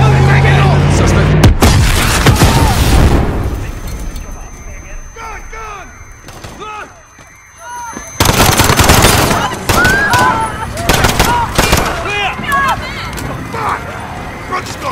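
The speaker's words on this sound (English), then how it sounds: "There's been a detonation at Piccadilly Circus. Shots fired." Explosion and gunfire at Piccadilly Circus in Call of Duty: Modern Warfare: loud bursts of rapid shots crack over frantic shouting, ease into quieter scattered noise, then a second heavy round of firing erupts as voices keep yelling.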